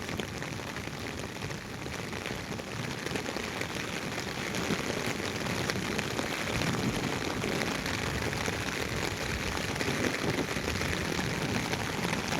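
Heavy rain pouring down in Sylhet, a dense, even hiss of drops hammering surfaces close by, unbroken for the whole stretch with no voices.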